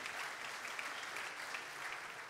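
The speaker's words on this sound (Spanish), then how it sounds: "denles un aplauso" Applause from a church congregation for a group of young men at a sermon gathering, a quiet, even patter of many hands clapping steadily throughout.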